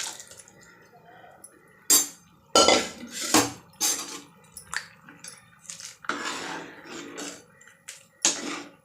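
Cooked lentils being tipped into a pot of sambar, with clanks of a metal vessel and spoon and wet plopping in short bursts.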